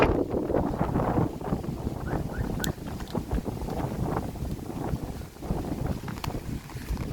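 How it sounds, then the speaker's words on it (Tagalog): Strong wind roars and buffets the microphone steadily, a loud rushing noise with gusty swells throughout and no speech. "Lakas ng hangin guys."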